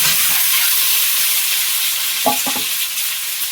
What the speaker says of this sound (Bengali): এদিকে একটু তেলে হলুদ দিয়ে ডিমটা দেবো